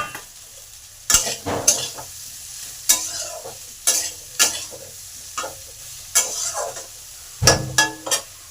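Vegetables frying in a pan as eggplant joins browned potatoes, sweet potatoes and beans for a mixed vegetable dish, with sizzling under repeated sharp stirring scrapes and clinks of a spatula against the pan at irregular intervals.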